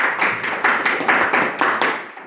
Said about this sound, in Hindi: अच्छा आप चूंकि सारे बजा रहे हैं तो तालियां जबरदस्त होंगी